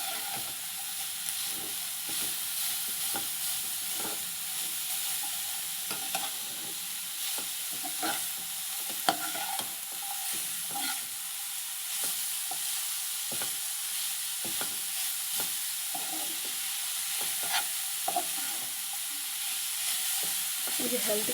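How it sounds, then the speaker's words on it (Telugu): Grated carrot stirred and fried in a pan for carrot halwa sweetened with jaggery: a constant close hissing sizzle with rhythmic spoon scrapes and light clinks throughout. "ఇది బాగా ఇలాగే కలుపుకుంటూ వేపేసుకోవాలండి"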